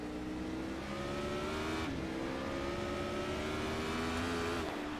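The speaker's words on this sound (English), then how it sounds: "Let's take a listen to the engine here." A GT4 race car engine revs hard from onboard in a racing video game, a loud continuous whine climbing steadily through the gears with a brief shift dip, heard alone.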